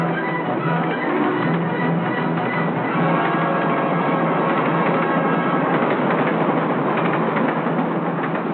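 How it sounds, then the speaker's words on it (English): A 1940s train, engine 1404 hauling 13 cars, rolls past in a steady, loud rumble with continuous rail clatter throughout, no voices over it. "a train passes"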